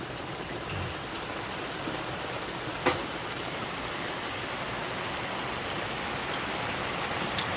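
Steady rain falls around an outdoor campfire cooking spot beside a shipping container, a constant broadband hiss with one brief sharper tap partway through; no voices.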